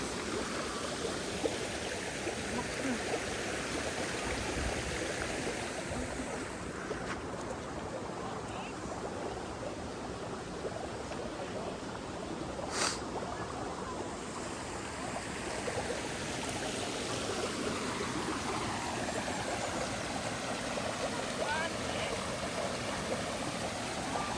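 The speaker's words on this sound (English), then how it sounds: "you can see we've got another waterfall here" A waterfall in the Japanese garden at Newstead Abbey gives a steady, fairly soft rushing of falling water that runs unbroken throughout.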